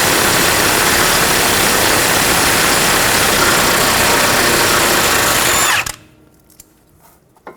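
A power tool with a 17mm socket spins off the sway bar link nut on a 2014-2019 Toyota Highlander's front suspension, whirring loudly and steadily for about six seconds before cutting out abruptly, leaving faint clicks.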